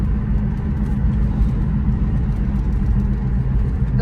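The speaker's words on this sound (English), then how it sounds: "Those are the car." Steady low rumble of car traffic on a wide road in Canada on a quiet Saturday in early spring, continuous engine and tyre noise without distinct pass-bys.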